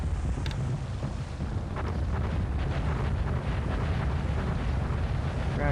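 Naval bombardment in a Spanish Civil War video game: a continuous, dense roar of distant explosions and rumbling blasts, loud and unbroken throughout with no pauses.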